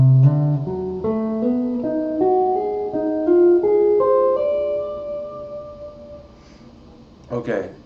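An electric guitar lick played slower, a string of hammered legato notes climbing step by step and fading into a sustained tone, followed by a brief voice at the end.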